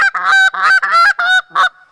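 A handheld Canada goose call blown by hand gives loud, close honks in a quick run of about five notes with short gaps, alone with no talking.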